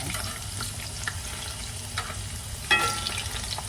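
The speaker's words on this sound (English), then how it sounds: "Go ahead and flip my plantains." Plantain slices fry in a pan with a steady, even sizzle and crackle throughout, a faint clink of a utensil partway through as they are turned.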